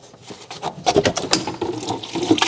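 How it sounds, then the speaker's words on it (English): Engine coolant gushes from a disconnected radiator hose on a 2014–2019 Chevy Silverado or GMC pickup into a bucket, a close, splashing liquid pour that swells and churns unevenly throughout. "So we still had a lot of coolant in the big one. We dumped it right down into the bucket."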